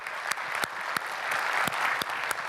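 A conference audience claps in a sustained round of applause, dense and fairly close, with a few sharper individual claps standing out against the steady wash, alone without speech.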